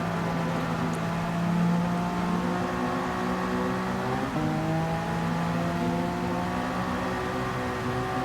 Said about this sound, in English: Somebody is just fucking revving it up. Now that we're in the pit lane.